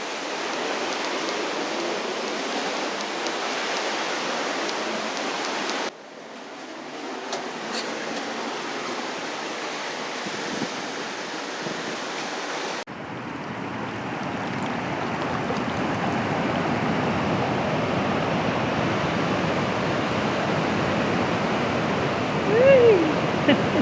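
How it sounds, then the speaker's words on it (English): Ocean waves of an incoming tide washing in as a continuous broad roar of surf and rushing water, fairly loud and steady, with the sound shifting abruptly between takes and no voices. "the tide is coming in"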